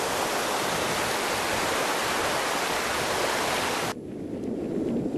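A large waterfall on a river in Oregon roars as a loud, dense, continuous rush of falling water. Partway through, the sound abruptly drops to a duller, more muffled roar.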